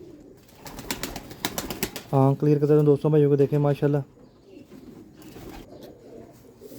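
A young pedigreed pigeon coos in a run of loud, close, rhythmic calls lasting a couple of seconds, set between stretches of someone talking.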